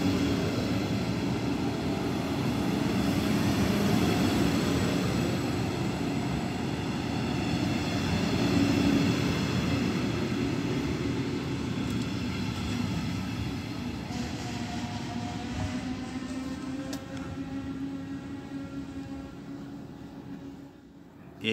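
A regional train passes through Uelzen station bound for Göttingen, a steady, loud broadband rolling rumble that swells and slowly fades over about twenty seconds, with no talking.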